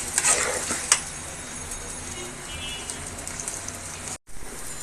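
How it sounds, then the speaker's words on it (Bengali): Rice frying in a pan for pulao, giving a steady soft sizzle with faint stirring scrapes, a couple of sharper clinks near the start, and a brief dropout near the end. "এখন আমি চালটাকে কিছুক্ষণ ভেজে নেব"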